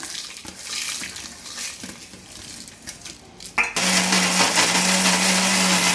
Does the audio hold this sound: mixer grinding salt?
yes